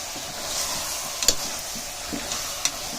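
Gongura greens sautéing in a cooker for Andhra-style gongura chicken, a steady hiss of frying with a few sharp spoon clacks as the greens are stirred, close by and without talk.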